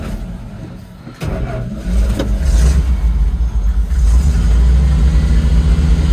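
An old junk engine starts and runs roughly, failing to hold an idle, a loud uneven low rumble with stumbling pulses close by after a brief quieter start.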